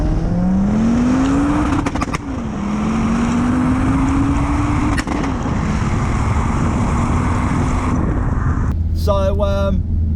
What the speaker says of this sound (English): as you can tell, the car is driving